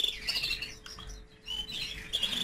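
Very small young pet birds, such as white-winged or mosaic canaries, chirp steadily in high, thin tweets that continue almost without a break, close and fairly loud.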